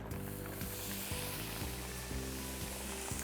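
Meat sears in olive oil in a hot pan, a loud, continuous sizzle and crackle with a few bursts as pieces settle. No voices.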